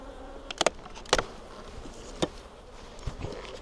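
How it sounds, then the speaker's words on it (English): Honey bees at an open hive hum in a soft, steady drone. Several brief clicks and taps of handled hive equipment cut through it, with no talking. "Okay, quite a few bees in here."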